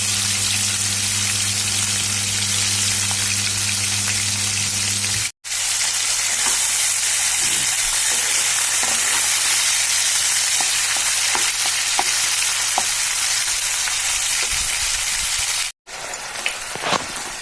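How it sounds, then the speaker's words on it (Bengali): Prawns frying in hot oil give a loud, steady crackling sizzle that runs the whole time, broken by two brief silent cuts, with a low hum under the first few seconds. "এবারে ওই তেলে ভেজে নেব চিংড়ি মাছ।"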